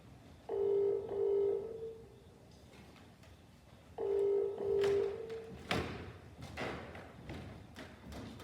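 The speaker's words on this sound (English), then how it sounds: "Somebody answer the phone!" A telephone rings at a police station in two separate bursts of trilling double rings, moderately loud in the room, followed by a few dull thumps and shuffling noises.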